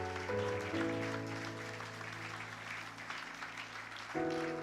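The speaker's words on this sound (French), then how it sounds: "Applaudissez-les, applaudissez-les." An audience at a church service applauds in a steady, moderately quiet wash of clapping. Sustained keyboard chords play loudly over it and change pitch near the start and again near the end.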